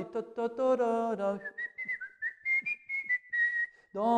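Someone whistles a lively little tune nearby, bright notes hopping up and down with short breaths in between.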